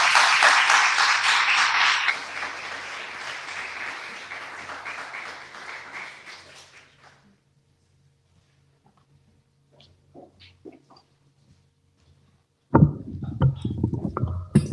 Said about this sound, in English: please give an enormous round of applause for our two incredible speakers for tonight